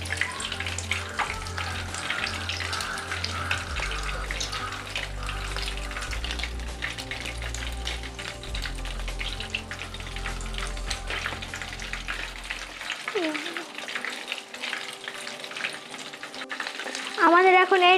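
Chicken sticks deep-fry in oil on a low flame in a kids' kitchen, with a steady, bubbling sizzle heard up close. A low background hum cuts out partway through while the frying carries on.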